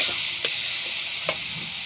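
Sugar sizzles in hot oil in a pan, a steady close hiss with a few soft stirring scrapes, no voices.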